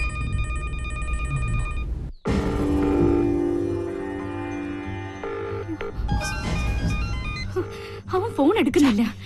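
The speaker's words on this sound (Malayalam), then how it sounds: "ഫോൺ റിങ് ചെയ്യുന്നുണ്ട്, പക്ഷെ ആദ്യം ഫോൺ എടുക്കുന്നില്ല" A telephone rings with repeating electronic tones, broken by a brief gap and then resuming, while voices talk over it nearby.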